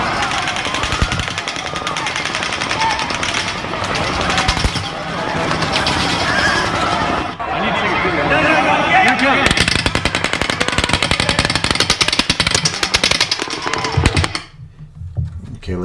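Rapid automatic gunfire recorded during the Las Vegas shooting at Mandalay Bay, a dense, continuous crackling burst of shots that runs for many seconds, loud and harsh with distant echoing rumble, before cutting off into quieter background.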